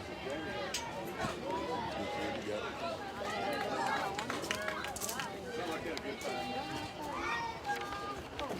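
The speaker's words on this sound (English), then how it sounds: "Got a really large crowd out here this afternoon." Large crowd at a high school softball quarterfinal between St. Amant and Pineville, a steady dense murmur of many voices filling the bleachers throughout, with scattered shouts and chatter close by.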